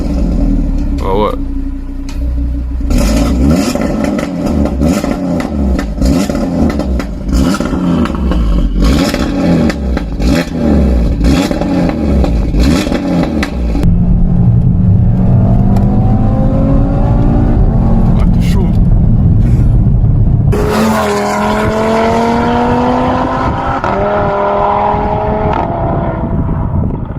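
Tuned stage 2 Audi RS3 with about 580 horsepower, its engine droning loudly and rising in pitch as it accelerates, with some revving at the end. A voice is briefly heard under the engine.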